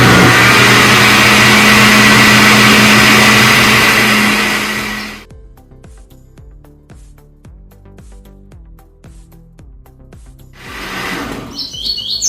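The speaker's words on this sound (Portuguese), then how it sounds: "Agora eu vou passar essa base que nós batemos aqui no liquidificador." A kitchen blender whirs loudly, mixing a chocolate brigadeiro base for frozen treats, runs steadily for several seconds, then cuts off, leaving quieter clinks and handling noises before a brief burst again.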